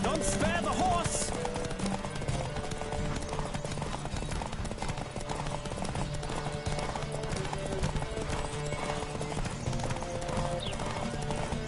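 Rapid hoofbeats of a galloping horse in The Witcher 3 pound steadily under a loud game music score, with occasional shouts and a brief whinny early on.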